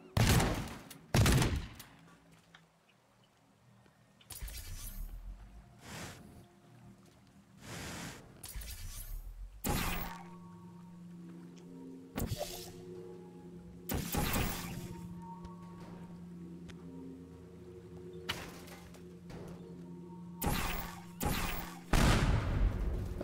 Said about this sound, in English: I'm just gonna take care of it with the pipe bomb